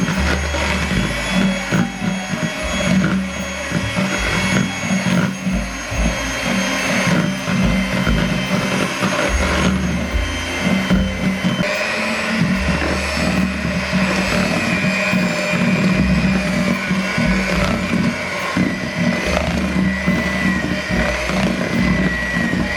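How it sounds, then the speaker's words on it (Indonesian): An electric mixer beats egg whites into pandan-flavoured lidah kucing cookie dough. Its loud, steady motor drone and whirring run throughout, shifting slightly in pitch as the beaters work through the bowl. "Saya akan mixer sampai dia tercampur rata."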